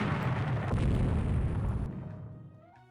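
Naval gun salvos from battleships in the Rule The Waves 3 naval combat game: a loud booming blast with a second punch partway through, then a long rumbling decay fading into quiet.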